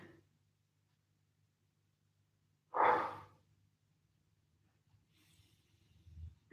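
A single soft exhale during a stretching exercise in a home recovery workout session, heard as one short, breathy puff in an otherwise quiet room with a faint low hum.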